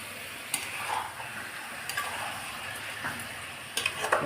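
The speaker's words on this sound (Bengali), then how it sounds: "আমি এখানে যে ম্যারিনেট করা চিকেনটা আছে আমি এটা এবার এখানে দিয়ে দিলাম" Marinated chicken frying in a pan gives a faint, steady sizzle, broken by a few soft clinks and stirring taps.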